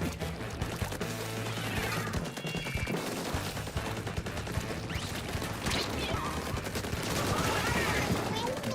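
Rapid sniper rifle shots and gunfire bursts in a Splatoon match, dense and continuous amid busy game music and effects, with a voice talking over the action.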